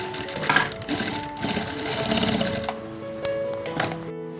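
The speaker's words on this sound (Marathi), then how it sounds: "आता इथे एक शिलाई मारून घेऊया आपण." Domestic sewing machine stitching a decorative shela for a Ganpati idol at home, a steady mechanical whir with fine rapid needle ticking that runs almost continuously, close and moderately loud, with no voices.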